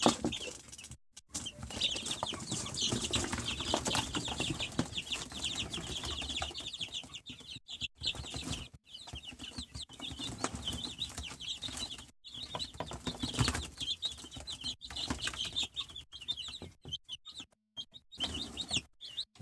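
Brown Nick chicks cheeping and chirping steadily in a cage, with bursts of wing flapping and scuffling throughout, fairly close and continuous.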